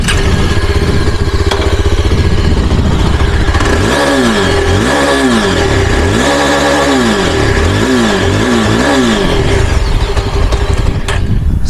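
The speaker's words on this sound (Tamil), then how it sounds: "இப்போ நம்ம சைட் ஸ்டாண்ட் இடத்துல எக்ஸாஸ்ட் நோட்டு கேட்டு பார்க்கலாம் எப்படி இருக்குன்னு." A 2022 Yezdi Adventure motorcycle parked on its side stand gives a loud, close exhaust note, idling steadily, then revved in several quick rising and falling blips before settling back to idle.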